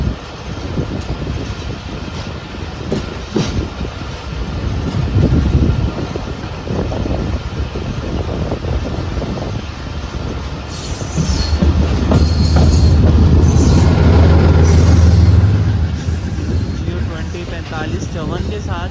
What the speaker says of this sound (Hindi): 26 डाउन बहाउद्दीन ज़फ़री एक्सप्रेस भी आ चुकी है।